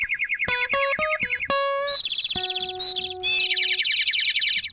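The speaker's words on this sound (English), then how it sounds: "Oh, that's bird chirping." Synthetic bird chirps from an electronic keyboard, bright repeated tweets and trills in quick bursts, loud and close, with a few sustained tones underneath.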